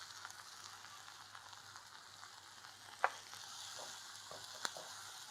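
Onion, garlic and tomato sauté in a pan for curry leaf soup, giving a soft, steady sizzle with a few faint clinks from stirring, low and unobtrusive.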